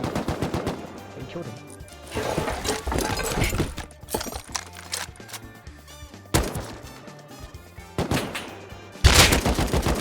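Bursts of AK rifle fire in a multiplayer survival shooter video game, loud close shots in clusters with quieter distant volleys between, while players talk over the action.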